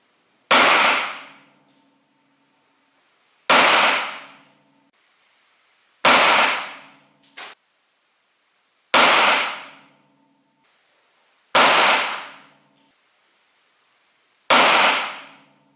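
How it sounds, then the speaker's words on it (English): Six sharp, loud shots from a Ruger LCP .380 pistol, spaced roughly two to three seconds apart, each a close crack with a quick ringing decay and a faint clink between two of them. "that's honestly the first time I've fired a 380"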